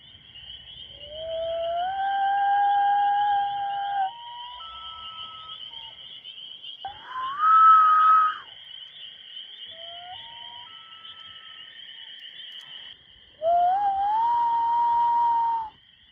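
A man imitating a loon call on a lake, long rising and wavering whistled wails repeated several times with gaps between, clear against a constant high insect drone.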